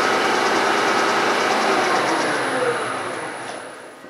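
A milling machine running in direct drive gives a steady, fairly loud broadband mechanical whir with a faint rhythmic ticking, gradually easing off toward the end.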